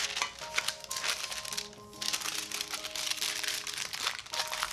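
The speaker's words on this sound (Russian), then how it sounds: "Дно формы выстелить бумагой для выпечки." Baking paper crinkles and rustles continuously while the bottom of a round cake pan is lined for a Marika honey cake, close and busy with brief pauses, no talking.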